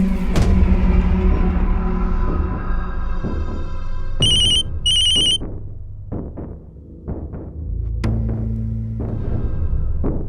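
An incoming call rings on a telephone, with short high electronic ring bursts over a loud low rumble, followed by scattered clicks and thumps.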